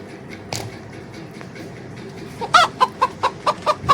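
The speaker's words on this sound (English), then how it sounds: "Next one is rooster." A rooster clucks in a quick series of sharp, evenly spaced clucks close by, following a quieter stretch with a few scattered clicks.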